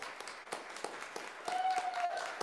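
Scattered clapping from a church congregation during worship at a retreat, quiet and fairly distant, lasting a couple of seconds with faint murmuring underneath.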